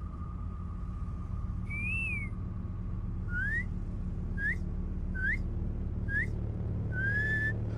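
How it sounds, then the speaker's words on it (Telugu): A person whistles a series of short, rising tones in a movie scene. There is one longer warbling whistle, then about five quick upward chirps, heard faintly over a low, steady background hum. "రేడియోలో విజిల్ కొడతావు కదా,"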